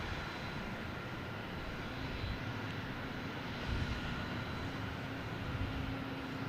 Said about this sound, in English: We have United Airlines, an A321 Neo coming in from Denver